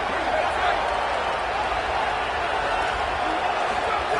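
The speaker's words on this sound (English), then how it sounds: "The crowd electric trying to help Tech on this 3rd down." Stadium crowd noise from the NCAA 27 college football video game, a steady roaring wash of cheering on a third down, with commentary speech over it.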